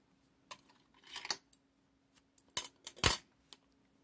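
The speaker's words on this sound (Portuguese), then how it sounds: "Então aqui também vou cortar o fio." Scissors snip crochet yarn in a few quiet, separate clicks and cuts, with faint handling rustle between them.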